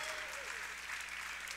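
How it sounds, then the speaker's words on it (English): Crowd applause at a college basketball senior day and parents day ceremony, a steady, fairly faint and distant patter of clapping through a large arena, with a brief voice near the start. "Let's give them a round of applause."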